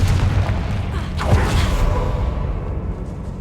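A Confringo fire spell bursts in Hogwarts Legacy on PC, a booming blast with a swooshing rush that swells and fades over a few seconds, loud and close, with no talk.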